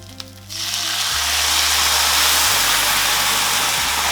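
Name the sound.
pan of sausage and peppers deglazed with red wine, sizzling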